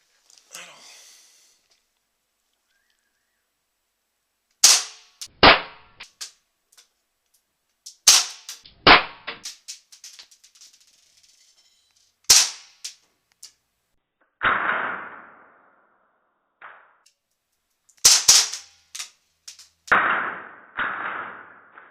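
A WE Hi-Capa 3.8 gas airsoft pistol fires a series of sharp, loud cracking shots in uneven clusters, with short pauses between bursts and a few softer clicks and thuds.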